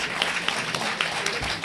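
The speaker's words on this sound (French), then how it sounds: "que je vous demande d'applaudir très très fort" Applause from an audience at a certificate ceremony rolls on at moderate level, a steady patter of many hands with a few sharper claps standing out, and a faint voice underneath.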